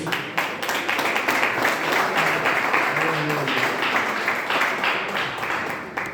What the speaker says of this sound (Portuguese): Receba com palmas para Jesus.